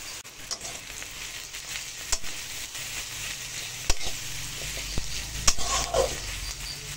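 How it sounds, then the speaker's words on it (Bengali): Steady sizzling of onions frying in oil with salt and turmeric, with occasional scrapes and clicks of a stirring utensil against the pan. "সামান্য পরিমাণে নুন আর হলুদ দিয়ে পেঁয়াজটা এবার একটু ভাজা ভাজা করে নেব।"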